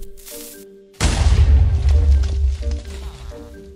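Blocks of TNT detonate in Minecraft: a sudden loud, deep boom bursts in after a second of quiet game ambience, then a heavy rumbling roar lingers and slowly fades.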